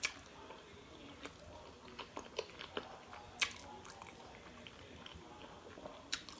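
Spicy braised oxtails being chewed close up, with soft wet squishing and scattered crunchy bites over a quiet background, no talking.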